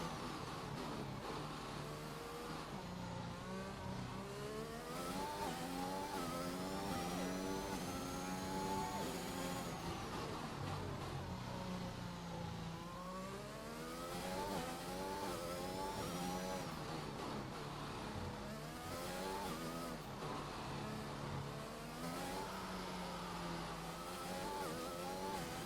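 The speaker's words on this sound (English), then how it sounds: "I'm going to be quiet now so we can really hear sort of the engine noise." Formula 1 car engine in the F1 2021 video game during an Azerbaijan GP league race, a continuous high-pitched whine rising and falling through gear shifts and revs, steady and close with no talk.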